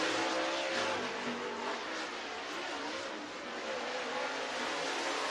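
A race car engine roars at a dirt speedway, a continuous loud broadband drone holding steady across the whole stretch with a slight dip midway and no talk over it.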